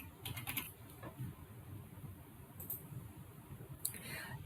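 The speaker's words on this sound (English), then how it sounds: "We're going to type in our child's name" Keys tapping on a computer keyboard while a child's name is entered into a form, coming as short faint bursts of clicks with pauses between them, close by and quiet over low room noise.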